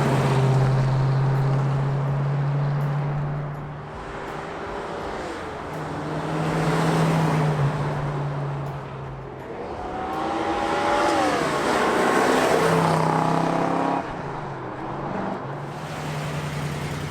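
A 1965 Ford Mustang cruising through Fort Lauderdale, its engine droning steadily with rising and falling revs through gear changes and a louder pull around the middle, heard close and without talk.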